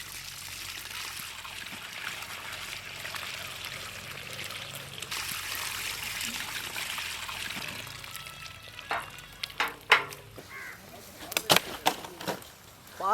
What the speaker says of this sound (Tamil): பால் கொதிச்சு என்ன திரளுது.